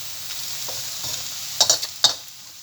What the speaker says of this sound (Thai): กระเทียมกำลังเดือดเลยครับปุดปุดปุดปุดปุดปุด